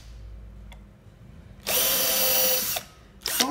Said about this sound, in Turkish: yani ayağa girecek şu şekilde çapraz şekilde içeri doğru deliyorum